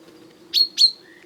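A chaffinch gives two quick, high, sharp chirps about a quarter second apart, clear and fairly close over a quiet low background hum.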